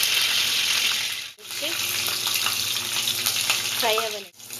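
Oil sizzles and hisses steadily in a pan, ready for frying cut bitter gourd for a curry, loud and close with a constant bright crackle and two brief dips in the sound.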